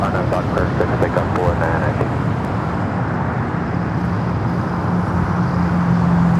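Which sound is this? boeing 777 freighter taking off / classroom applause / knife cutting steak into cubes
boeing 777 freighter taking off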